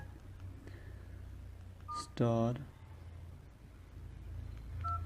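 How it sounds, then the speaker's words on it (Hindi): Code being keyed in on an old Samsung mobile phone: a short burst of stepped DTMF dialing tones, loud and close, with faint speech and a couple of soft beeps around it. "आपने क्या करना है, आपने डायल करना है एक कोड, सिंपली डायल"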